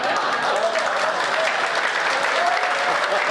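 Sustained audience applause fills a Hindi comedy poetry gathering (hasya kavi sammelan), a dense, steady wash of many hands clapping at full volume throughout, with no voices rising above it.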